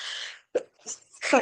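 A single sharp sneeze in a quiet room, preceded by a breathy intake and followed by a brief spoken apology.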